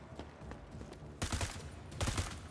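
Bursts of rapid gunfire come from an enemy player in a PVP video game, two loud volleys in quick succession after a quieter stretch of faint game noise.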